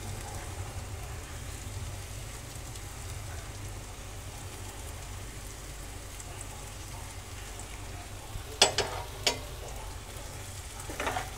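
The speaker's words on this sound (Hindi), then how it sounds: "आलू को मसालों के साथ 2 मिनट अच्छी तरह से भून लेंगे।" A soft, steady sizzle of boiled, hand-broken potatoes frying with spices in a pan, quiet throughout, with a few sharp clinks of a utensil near the end.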